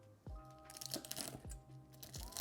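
Crispy cooked bacon crunching under a knife as it is cut into small pieces for ciabatta dough, a few quiet, sharp crackly crunches in quick succession.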